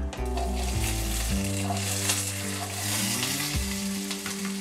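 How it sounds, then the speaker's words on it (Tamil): Small onions sautéing in a pan for tiffin sambar, giving a continuous loud sizzle and crackle that stays steady throughout with no voices. "இதையும் சேர்த்து விட்டு நல்லா ஒரு நிமிஷம் வதக்கிக்கலாம்."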